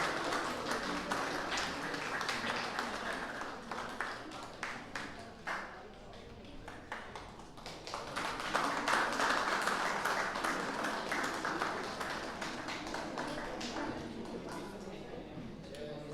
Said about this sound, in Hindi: सबका जोरदार तालियों के साथ स्वागत करें और अभिनंदन करें।